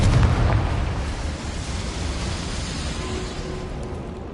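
Casting Confringo in Hogwarts Legacy sets off a fiery blast, strongest at the start and then fading into a long, rumbling, crackling decay with no voices.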